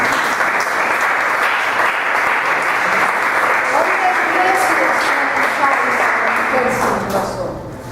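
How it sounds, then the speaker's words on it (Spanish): An audience at a live Sor Juana Inés de la Cruz performance breaks into loud, sustained applause with a few voices mixed in, fading near the end. "le pedimos un aplauso"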